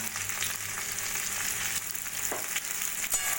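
Drumstick pieces fry with ginger paste in a pan for Bengali shukto, a soft, even sizzle close by with a few faint scrapes and clinks of stirring.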